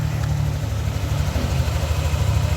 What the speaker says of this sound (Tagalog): So yun yung tunog ng makina ng NMAX version 2 ni sir.